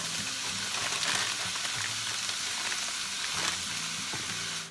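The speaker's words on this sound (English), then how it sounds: "So this is me sauteing the onion, some garlic, sauteing just a little bit" Onion and garlic sautéing in a pan, a steady broad sizzle with constant crackle and hiss, close and fairly loud throughout with no talking, and faint low tonal music running underneath.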